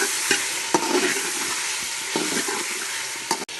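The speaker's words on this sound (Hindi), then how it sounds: "हमारा चिकन देखें अच्छे से फ्राई हो चुका है" Chicken frying in a pot for achari biryani, a strong steady sizzle close up, broken by several sharp spatula clinks and scrapes against the metal as it is stirred, no voices.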